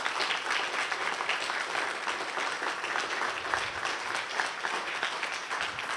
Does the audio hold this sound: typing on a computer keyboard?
no